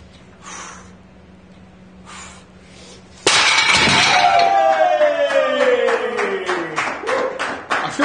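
A ceramic tile is smashed inside an RV: after a few seconds of quiet room noise, a sudden loud crash and shatter of breaking pieces, followed by ringing and a long scatter of rattling fragments.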